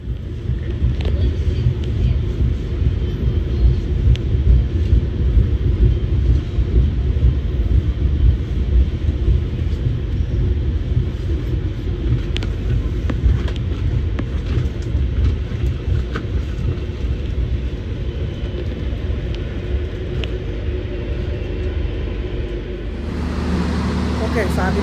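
Inside the Majapahit economy-class train travelling from Malang to Jakarta, a constant low rumble and rolling roar fills the carriage, steady and loud throughout, with a slight change in tone near the end.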